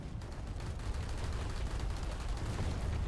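Dense, continuous gunfire from a Planetside 2 battle, with rapid overlapping shots and bursts that keep up a steady, loud barrage for the whole stretch.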